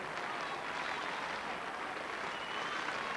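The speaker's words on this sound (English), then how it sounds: "And there's tremendous applause for her in the main stand." Stadium crowd applauding a female runner from the main stand at athletics trials, a steady, distant wash of clapping and crowd noise, even and sustained.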